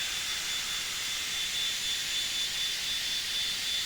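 Blue Angels jet engine at maximum afterburner, heard from the cockpit as a loud, steady broadband roar that holds constant throughout.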